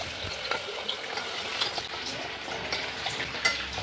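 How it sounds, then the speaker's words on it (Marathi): Cooked dal poured into a hot tempering of oil, spices and tomato in a pan, giving a light, steady sizzle with stirring and occasional clinks of a utensil. "तर आता याच्यानंतर शिजलेली डाळ याच्यामध्ये घालून घेत आहेत"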